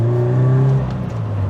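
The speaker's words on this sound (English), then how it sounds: "Driving the Toyota GT86." A Toyota GT86 with a 2-litre engine, heard from inside while driving, giving a steady, loud, close engine drone that eases slightly partway through.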